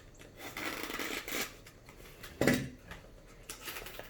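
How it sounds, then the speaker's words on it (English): A knife slices through the tape on a cardboard box holding a LiPo battery, giving a few scratchy rasping cuts and one sharper crackling rip near the middle, close and fairly quiet, no talk. "Alright, so we cut open the box."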